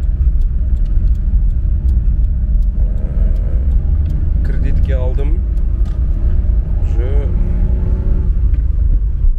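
A Daewoo Damas minivan's engine runs with a steady low rumble throughout, close and continuous, while someone talks over it.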